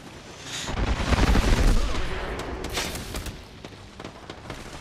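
Rapid automatic gunfire bursts from the Apex Legends battle royale game, loud and dense through the first two seconds, then thinning into scattered single shots and clatter.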